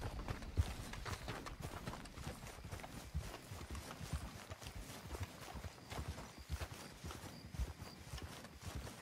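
Steady clip-clop of horse hooves walking at a regular pace in the video game Red Dead Redemption 2, fairly close, with no voices over it.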